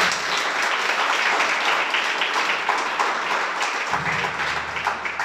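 A congregation bursts into sustained applause during a Torah teaching, a thick, even roar of many clapping hands that holds steady for several seconds with no voices on top.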